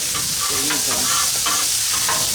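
A spatula presses and pushes chicken fried rice around a hot frying pan, giving continuous sizzling with repeated scraping strokes against the pan, close and loud, no talking.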